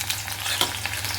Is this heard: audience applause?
no